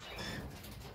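Adult pigeons cooing in a breeding loft, a short, soft, continuous murmur heard close up with no talking.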